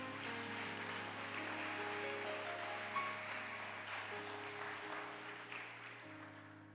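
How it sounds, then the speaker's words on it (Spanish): A church congregation applauds during a Spanish-language service, the scattered clapping blending into a wash of sound over sustained keyboard or organ chords that carry on throughout. "Den un aplauso a mi Jesús, por favor."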